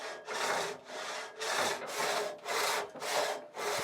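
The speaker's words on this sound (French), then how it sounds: "mitru profite de la venue de son gendre pour couper cette grosse planche à l'aide de la scie antique de Pătraș." An antique hand saw cuts through a thick wooden plank in a workshop in steady back-and-forth strokes, about seven rasping pulls with brief pauses between them, close and clear.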